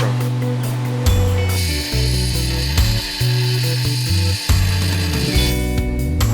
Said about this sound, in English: I just finished grinding around the base of each spike